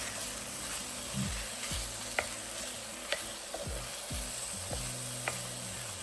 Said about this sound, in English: While our potatoes and sweet peppers are sauteing